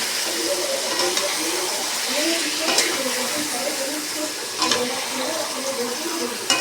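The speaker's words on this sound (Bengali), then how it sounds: "এবার আমি মাংসটা দিয়ে দেবো। মাংসটা দিয়ে ভালো করে আমি কষিয়ে নেব।" Meat and red-fried potatoes being fried and stirred together in a pan, a steady sizzle with intermittent scraping strokes of the spoon, close by, while a voice talks over it.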